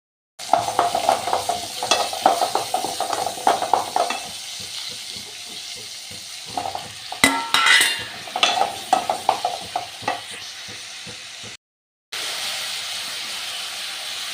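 Chopped onions with a little salt sautéing in a pan for a ghee fish dried-fish curry, a loud close steady sizzle and hiss broken by repeated scraping stirs and clinks.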